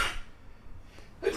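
A person sneezes sharply at the start and again near the end, with quiet breathing and room noise in between. The setting is a casual podcast conversation.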